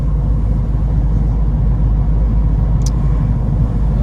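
A turbocharged Subaru WRX hatch with an EJ25 engine cruises in fifth gear, giving a steady, loud, low engine drone and road rumble from inside the cabin without pauses.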